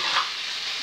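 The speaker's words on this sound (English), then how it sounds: "just cooking a bit of ackee and saltfish for my breakfast" Ackee and saltfish cooking in a pan, a steady close sizzle of frying with a brief swell near the start, heard alone without voices.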